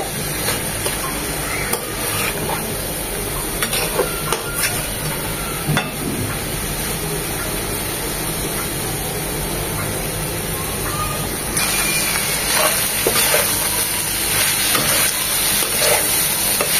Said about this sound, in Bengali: না ঢেকেই করলাটা ভাজি করব